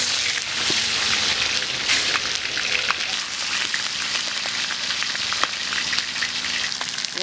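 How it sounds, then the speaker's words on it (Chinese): Mackerel (Spanish mackerel) frying in a large iron wok, giving a steady, loud, dense sizzle that continues unbroken throughout, with occasional faint clinks and small pops. "下锅煎"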